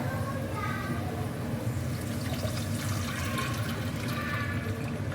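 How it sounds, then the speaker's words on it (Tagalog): Mung beans and water are poured into a cooking pot in a steady, gushing splash that runs throughout, with a voice speaking over it. "Lagay ko na yung munggo with the tubig."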